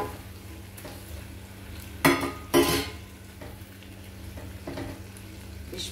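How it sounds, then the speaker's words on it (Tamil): Fish frying in a pan with softened onions sizzles quietly and steadily, broken by two sharp utensil scrapes and clatters in the middle, with a low hum running underneath. "இப்போ நம்ம ஃபிஷ்ஷை போட்டுடலாம்."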